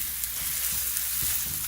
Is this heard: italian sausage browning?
yes